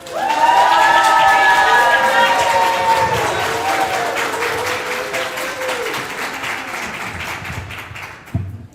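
An audience applauds and cheers as author Vanessa Riley is welcomed onto a stage at an author talk. The clapping is loud and sustained, with whoops and scattered voices, and it slowly fades toward the end.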